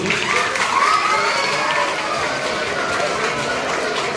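A school audience at a Ganpati festival debate competition fills the space with steady crowd noise and cheering, young voices shouting over continuous clapping throughout.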